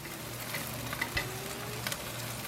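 Pork chops seasoned with porchetta spice sizzle steadily on a grill, a soft continuous crackle with a few brief pops and a faint low hum underneath, no voices.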